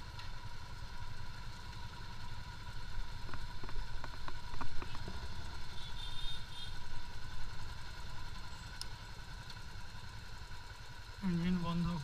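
A motorcycle engine idles on a road in Sikkim as a steady low rumble throughout, with a brief shift in tone near the end.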